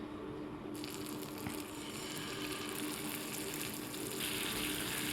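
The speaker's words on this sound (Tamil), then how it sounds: "இப்போ தவா வச்சு எண்ணெய் சுட வச்சுட்டு மீனை ஒன்று ஒன்றா போட்டு வறுத்து எடுத்துக்கலாம்" Fish pieces frying in hot oil on a tawa, a steady close sizzle with a louder burst of crackling near the start and a constant hiss throughout, no voices.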